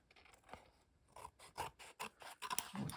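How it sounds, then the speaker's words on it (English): Scissors trim the edges of glued paper on a handmade art piece, giving a run of soft, close snips and scraping cuts that grow quicker and denser toward the end, with no talking. "I'm a little excited to see how it will look when I cut my edges clean here."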